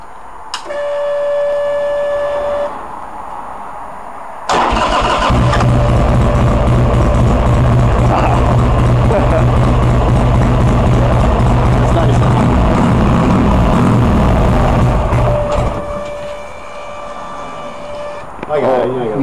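A Buell CityX Lightning motorcycle with dual exhaust, revived after sitting, cranks over and catches, then runs loud and close with a rough, rumbling idle for about ten seconds before shutting off.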